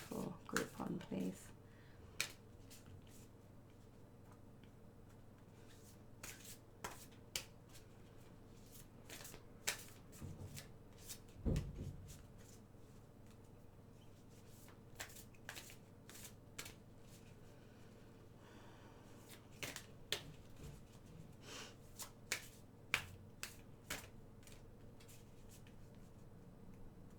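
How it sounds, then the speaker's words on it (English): Large tarot cards are shuffled by hand up close, giving quiet, scattered flicks, taps and soft riffles in irregular bursts against a faint room hum. "These are a little bit harder for me to shuffle because they're quite big"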